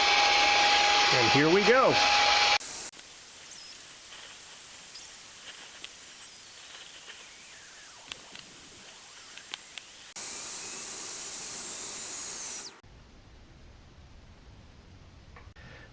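A Baseus A2 Pro portable USB-C rechargeable car vacuum on its high power setting roars with a loud whining rush in two bursts, with quieter stretches and a person speaking between them.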